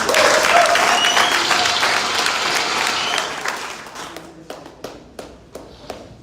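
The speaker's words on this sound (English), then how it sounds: "you must give yourselves a round of applause for that" Crowd applause at a party presidential primary election rally, loud dense clapping for about three seconds that thins into a few scattered individual claps before fading out.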